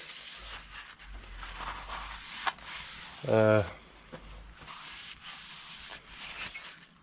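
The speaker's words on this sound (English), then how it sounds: "So a nice clean rag. Now just wipe off all of that" A clean rag wipes shavings, dust and grit off an old Myford ML7 lathe, producing soft, steady rubbing and scraping close by while someone talks over it.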